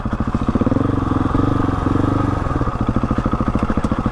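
A Husqvarna 701 Enduro single-cylinder motorcycle engine thumps in a steady rhythmic beat, loud and close, as the bike begins a steep descent of a mountain pass in first gear under engine braking.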